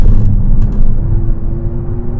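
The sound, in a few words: electric sports car engine sound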